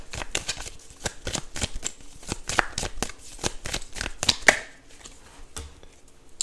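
A deck of oracle cards being shuffled by hand, a quick run of crisp riffling snaps in an uneven rhythm, close and clear, easing off toward the end.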